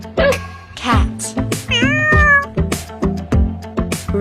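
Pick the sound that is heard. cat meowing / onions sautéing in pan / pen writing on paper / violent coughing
cat meowing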